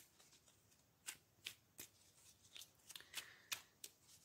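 Archangel oracle cards are shuffled close by, a series of quiet, crisp riffles and slaps spaced irregularly over a soft background.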